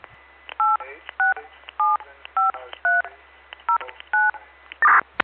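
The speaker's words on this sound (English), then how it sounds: "Oh, let's do DTMF." DTMF keypad tones sent from a Motorola XTL5000 mobile radio with an O3 control head in a Jeep, a string of eight short even dual-pitch beeps in steady rhythm, clear and close, ending in a brief burst of noise.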